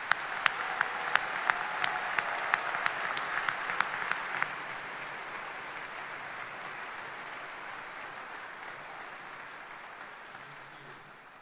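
Audience applause at a law school graduation ceremony, opening with a few sharp, distinct claps near the microphone, then settling into a steady, fairly quiet wash of crowd clapping that continues for several seconds.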